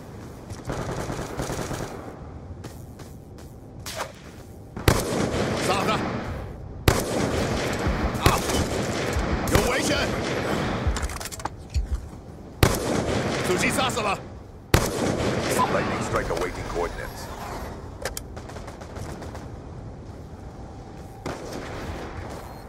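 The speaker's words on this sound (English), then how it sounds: "Lightning strike coordinates received." Airstrike explosions and rapid gunfire from a Lightning Strike killstreak in Black Ops 2, loud, dense repeated blasts in several bursts with game voice callouts mixed in.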